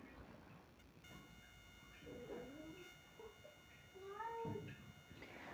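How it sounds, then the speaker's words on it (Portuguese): Indoor cats quarrel, giving faint drawn-out meows and yowls that rise and fall across several seconds, with a steady electrical hum in the background. "meus gatos aqui estavam brigando"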